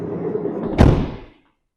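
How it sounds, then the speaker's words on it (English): Sliding side door of a VW Classic 110 camper van rolling along its track and slamming shut with a single loud, close thud that rings briefly and then falls to silence. "I'm just going to close that up and close the sliding door."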